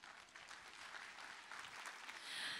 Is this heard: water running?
no